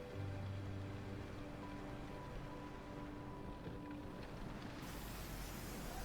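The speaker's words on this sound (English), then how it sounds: "It looks like it is actually raining." Steady rain in the Star Citizen video game pours down outdoors as a continuous, even hiss of falling drops at moderate loudness, with no voices.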